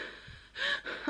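A voice imitates heavy, out-of-breath breathing, a few quick, close gasping inhales and exhales after a strained walk.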